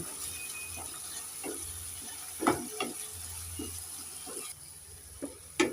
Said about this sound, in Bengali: মশলাটাকে তিন চার মিনিট ভালো করে কষে নেব